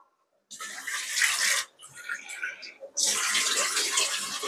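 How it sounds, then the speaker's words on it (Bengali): Water splashing into a cooking pan of tomato and spices for a dried fish bhuna, two steady close pours separated by a brief lull. "আমি এখানে একটু জল দিয়ে দেব,"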